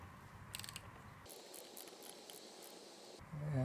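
A torque wrench ratchets and clicks on a bolt during a 42RE transmission rebuild, soft close mechanical ticking in a quiet shop with a short buzzy burst near the end.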